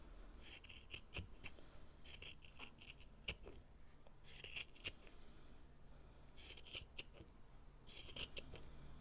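Repeated crisp snips of scissors cutting dried fairy wing material, several quick bursts spaced across the clip, close up with no talking.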